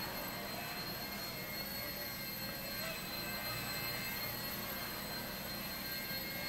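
A small Blade 70S RC helicopter flies nearby, its rotors and motor making a steady, high, whining hum that holds unbroken throughout.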